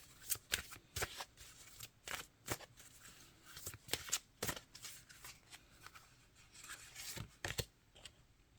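Tarot cards are shuffled and drawn: quiet, close, crisp riffling and flicking in uneven rapid bursts, alone with no talking.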